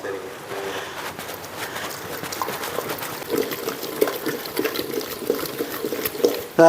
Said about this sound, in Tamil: அதே தண்ணி பச்சை தண்ணி ஊற்றி விடாதீங்க, நம்ம வடித்த தண்ணியே தான் ஊற்றணும்.